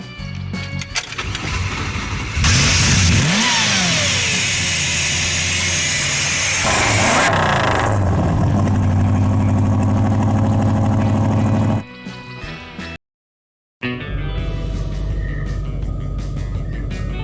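A 1957 Chevy engine cranks and fires, then is revved hard in long loud surges before settling into a rumbling idle, with a brief dropout and the engine running again near the end.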